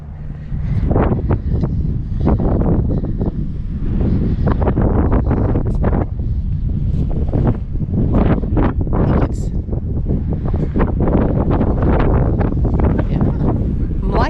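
Strong gusting wind at a desert rest area with cacti and rocks, buffeting loudly and roaring against the microphone throughout, with no clear voices.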